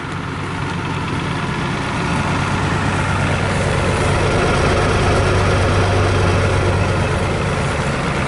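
An old diesel engine with no coolant idles cold, a steady low rumble with a loose mechanical rattle running through it, close and continuous with no talk.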